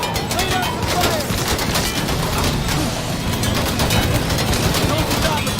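Turret gunfire in Mafia 3, a dense, continuous barrage of rapid shots and booming impacts that stays loud throughout with no pauses.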